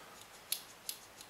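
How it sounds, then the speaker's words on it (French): Two crisp snips of the scissors on a Leatherman Surge 2 multitool, spaced about a third of a second apart, close and fairly quiet against near silence. "une grosse bonne paire de ciseaux"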